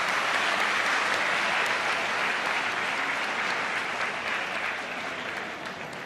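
An audience at an award ceremony claps in sustained applause, a thick, even patter of many hands that tapers slightly toward the end.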